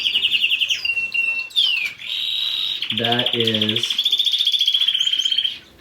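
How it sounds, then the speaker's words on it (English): A male canary ready to breed sings hard and close, a steady run of bright rapid trills and chirps with short pauses, plus a brief lower buzzy phrase in the middle. "That's a hard singing canary."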